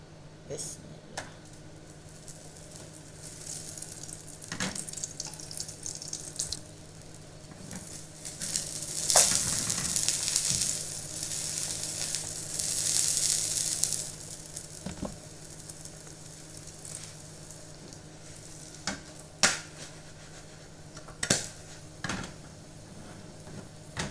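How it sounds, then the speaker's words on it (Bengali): Food fries in about a spoonful of oil on a tawa, a soft background sizzle that swells into a louder, bright crackle in the middle, with occasional utensil taps and clicks around it. "হালকা তেলে আমি ভেজে নিব।"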